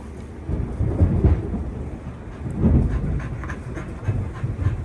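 Thunder rumbles low and continuous during a thunderstorm, with deeper rolling peaks near the start and middle over steady rain noise, and no talking.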